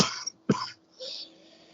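A smoker's cough from an adult, a few harsh rough bursts close to the microphone followed by a raspy breathy exhale.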